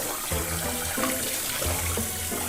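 Tap water running steadily into a sink while a cast iron pan is rinsed, a constant close splashing hiss with shifting gurgles as the pan moves under the stream.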